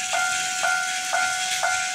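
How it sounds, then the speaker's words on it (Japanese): A Plarail toy railroad crossing alarm, with lowering barriers and flashing LEDs as a train enters, rings in a steady repeating pattern, about two chimes per second over a constant hiss. "そして警報音が鳴っているということがわかると思います"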